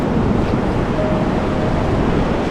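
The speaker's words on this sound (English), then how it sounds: "So the waves are busy fighting the force of the river." Ocean waves meet a river current at a beach in Phuket, Thailand, on a rainy day: a loud, continuous roar of churning surf with wind buffeting the microphone and no voices.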